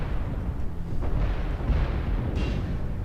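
Explosions from an incoming missile strike in the mech combat game MechWarrior Online, heavy rumbling booms rolling continuously across the whole span, loud and dense with a sharper crack near the end.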